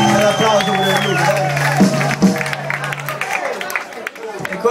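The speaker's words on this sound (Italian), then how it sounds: "un applauso per Luca." Applause and cheering from a crowd at a live rock cover-band show in a rock café in Gaeta, a mix of claps and calls, with a voice talking over it and music tones underneath.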